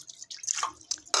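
Water drains into a kitchen sink in a home kitchen after cooking, heard as faint irregular drips and splashes in short bursts.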